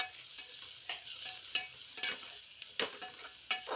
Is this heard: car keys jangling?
no